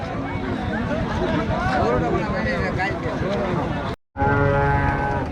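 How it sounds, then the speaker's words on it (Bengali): A native bull lows amid a dense babble of crowd voices and cattle market noise in Rajshahi, with a momentary dropout near the end. "একটি গরু দেশি গরু খুবই সুন্দর মানের"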